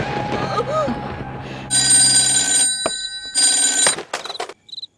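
An old-style telephone bell rings loudly in two long bursts, following some indistinct voices, then a few short clicks and a faint chime.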